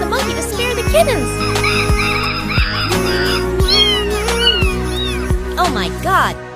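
A cat meowing repeatedly in drawn-out, pleading cries, close and fairly loud, punctuated by several soft thumps in between.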